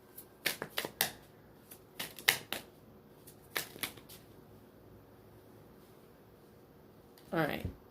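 Tarot cards are shuffled close by in soft, crisp bursts of riffling and slapping, a few quick clusters early on, then a quiet gap, with a short voice near the end.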